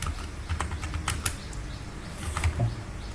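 Keys clatter on a computer keyboard during HTML coding, quick irregular taps in short bursts, close and fairly quiet with no voices.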